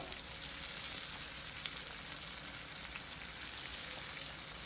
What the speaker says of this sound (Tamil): மீன் வந்து அப்படியே நல்லா வந்து பொறிஞ்சு வரட்டு